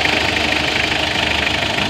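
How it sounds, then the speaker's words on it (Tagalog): A rebuilt Mitsubishi 4D56 diesel engine from an L300 runs steadily after its overhaul, a dense, continuous idle with a knocking, vibrating character, close and loud throughout with no talking. "overhauling natin ng Mitsubishi 4D56 L300 diesel. So ayan guys, umaandar na siya"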